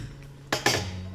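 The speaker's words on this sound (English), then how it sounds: "Let's stir the pasta as we are accustomed to." Macaroni pasta stirred in a pot with ham and broccoli cream sauce, giving two quick metallic scrapes and clinks of a utensil against the pot over a low steady hum.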